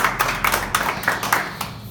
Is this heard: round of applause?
yes